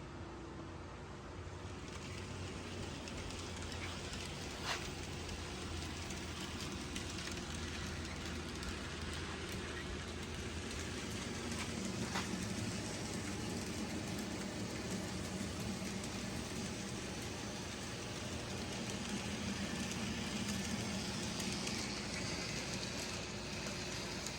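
Steady low rumble and rattling hum of an N scale MicroTrains train with tank-carrying flat cars circling a small 2-by-4-foot layout, continuous and even throughout with no talking.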